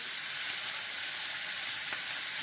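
Chopped onion, capsicum, chili and carrot sizzle steadily in hot oil in a pan, a continuous close frying hiss with no talk.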